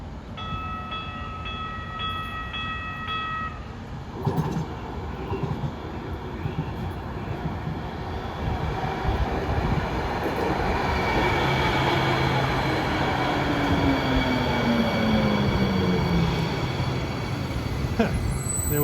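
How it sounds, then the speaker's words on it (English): A Hoboken-bound Hudson Bergen light rail train rolls off a single-track section, a long rumbling approach with high wheel squeal gliding downward as it passes close by, a few brief tones sounding early on. "Comes a Hoboken-bound train off the single track."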